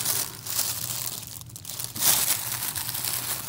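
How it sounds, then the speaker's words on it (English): Plastic crinkles and rustles continuously up close, with a louder burst of crumpling partway through and no voices. "back to the plastic bag again"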